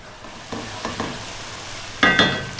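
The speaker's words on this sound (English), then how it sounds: "it's going to take like maybe 4 minutes or so of just stirring and stirring" Tomato paste cooking down in a pan, a soft steady sizzle broken by a few spoon scrapes and taps, with a louder clatter near the end, close up and without voices.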